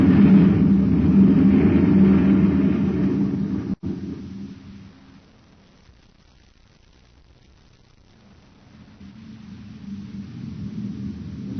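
Old-time radio drama effect of a Space Patrol maintenance truck's engine: a loud, steady motor roar that cuts off abruptly, falls to a quiet hush, then swells gradually back up as it speeds along.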